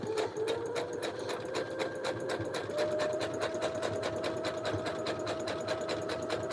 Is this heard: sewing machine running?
yes